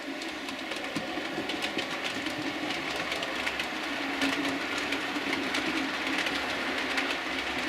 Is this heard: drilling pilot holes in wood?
no